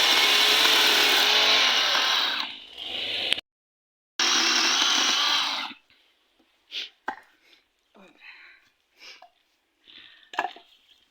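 A cordless chainsaw whines steadily through mulberry wood in two long bursts, then stops, leaving scattered rustling and handling sounds.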